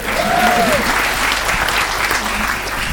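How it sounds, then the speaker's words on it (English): An Edinburgh Festival comedy audience claps loudly in a steady, dense burst, with a faint voice rising briefly over the applause. "Not too much applause"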